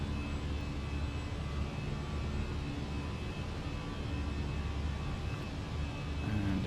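Fenix A320 airliner engines at climb thrust in a flight simulator, a steady broad roar with a faint high whine, continuous and even throughout with no talking.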